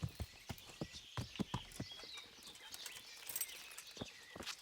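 Horse hooves in Kingdom Come: Deliverance, a faint irregular clip-clop of an armored rider's mount striking the ground, spaced thumps at moderate distance, quiet and without talk.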